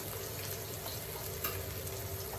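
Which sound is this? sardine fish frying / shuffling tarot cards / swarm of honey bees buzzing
sardine fish frying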